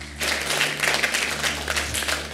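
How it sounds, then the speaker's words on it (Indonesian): Congregation clapping during a Sunday morning church service, a short burst of many hands over a low steady musical hum. "Tepuk tangan buat Tuhan Allah kita."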